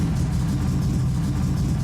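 A restored Pontiac GTO Judge muscle car engine rumbles steadily up close, a deep, throaty low-pitched drone with no voices over it.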